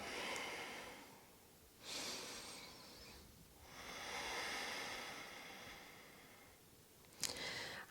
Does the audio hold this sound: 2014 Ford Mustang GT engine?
no